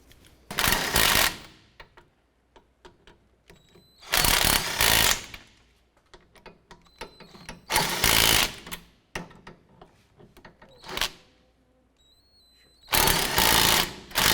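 A power tool runs down the wheel hub bolts on a 2008-2012 Honda Accord during a rear hub and bearing replacement, four loud buzzing bursts of about a second each separated by quieter clicks and handling noises.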